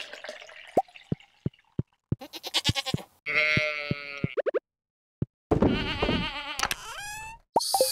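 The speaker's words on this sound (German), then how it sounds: "heute kann ich auch mein Schaf wieder scheren" Sheep shearing in the farming video game Stardew Valley: a run of short plinking clicks, then chirpy synthesized tones and a bright bleat-like cue, game effects heard up close with no voice over them.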